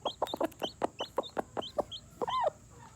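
A hen clucking to her newly hatched chick while showing it how to eat, a steady run of short rhythmic clucks and chirpy calls ending in a louder drawn-out squawk, close by with no talking.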